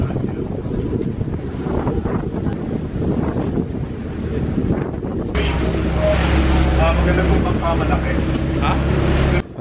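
Rough, choppy open ocean off Palawan splashes against a moving boat, with wind buffeting the microphone and a steady engine drone growing louder partway through, while a voice talks over it.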